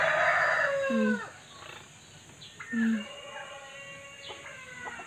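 Roosters crow loudly nearby, two long drawn-out calls a couple of seconds apart, with fainter crowing and a voice in the background.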